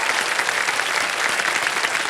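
A studio audience on a Hindi TV quiz show applauds steadily, a dense, even wash of many hands clapping at once that holds at full strength from start to finish, with no pause or build.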